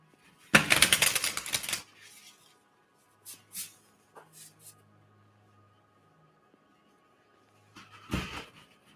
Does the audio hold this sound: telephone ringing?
no